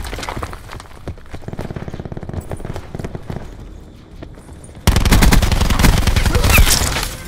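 Cluster grenade detonations in the video game Call of Duty Black Ops 4: a rapid string of sharp pops building into a dense, loud crackling barrage near the end.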